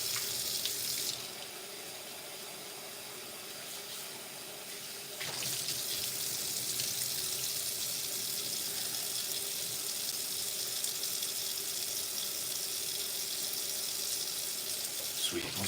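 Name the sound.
water running from tap while rinsing beans in rice rinser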